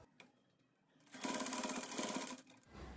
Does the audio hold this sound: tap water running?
no